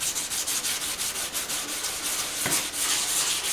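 Wet-or-dry sandpaper rubbing steadily back and forth over a surface while building a Honda Sabre cafe racer, a continuous close, even scrubbing rhythm with no talk.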